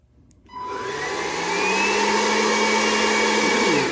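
A handheld power blower clicks on and spins up to its fastest setting, a loud steady whine and rushing whoosh that rises and then holds, with no talking.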